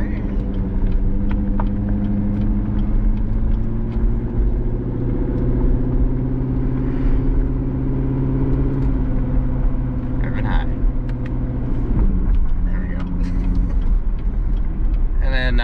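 Corvette engine rumbling steadily while driving, a constant low drone close by, with people talking inside the car over it.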